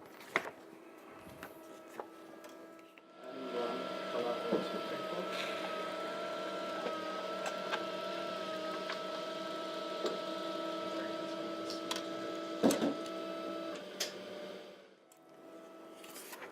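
A toner printer loaded with ghost white toner prints a T-shirt transfer design, a faint, steady mechanical whir with a soft tonal hum that starts after a few seconds, runs for about twelve seconds, then stops.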